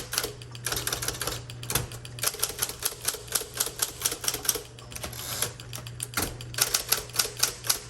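Typing on a 1960 Electra 12 typewriter: rapid, crisp key strikes in uneven bursts with brief pauses, close and clear, alone with no voice.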